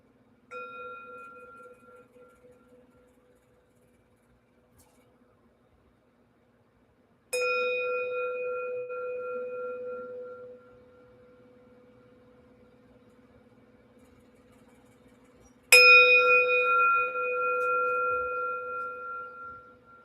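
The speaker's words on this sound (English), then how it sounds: "I'm going to start with a bell" Three strikes of a meditation bell ring out over roughly twenty seconds, each a bright struck tone with a long, steady resonant decay. The first is softer, then a quiet pause, and the later two are louder and closer, sounding alone without talk.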